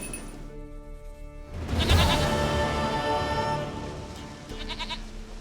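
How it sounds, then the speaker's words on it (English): Goat bleats in The Witcher 3 video game, a few calls rising over layered in-game music and ambience, loudest in the middle and close by. "Goat of mine, dearest,"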